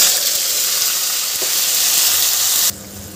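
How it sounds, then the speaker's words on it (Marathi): Ground masala paste sizzles loudly in hot oil that already holds mustard seeds and cumin, a bright continuous hiss for a Maharashtrian bhindi masala, dropping abruptly in level near the end. "आता यामध्ये आपल्याला वाटून घेतलेलं हे वाटण घालून घ्यायचं आहे."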